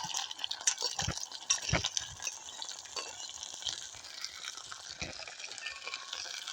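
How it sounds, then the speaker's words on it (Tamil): Pirandai (adamant creeper) sautés in hot sesame oil, a steady close sizzle and crackle with repeated stirring scrapes and clinks of a utensil against the pan throughout, no talking. "எண்ணெய் நல்லா சூடேறிட்டு நாங்கள் இந்த பிரண்டையை போட்டு வதக்க போகிறோம்"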